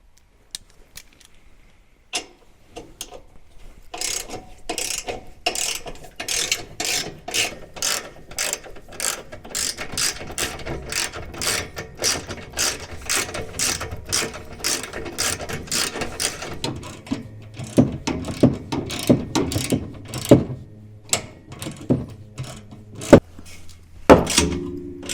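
Ratchet wrench removing four 14mm bolts from the front bumper of a Kawasaki Mule SX 4x4, close repeated clicking bursts in quick runs with short pauses and a few metallic clunks, no talking.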